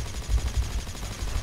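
Rifle fire in the futuristic shooter Battlefield 2142, a fast run of rapid shots thudding close and loud over a steady low rumble.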